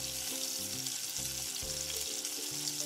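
Sambar masala stirred into hot oil for restaurant-style paneer lababdar, a steady close sizzle under stretches of background music, with no voices.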